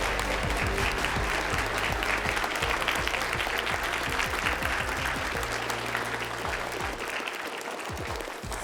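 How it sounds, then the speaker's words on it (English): Sustained audience applause at a military signing ceremony, dense and steady for several seconds before thinning out near the end, heard alone without talk. "Give Natalie a round of applause."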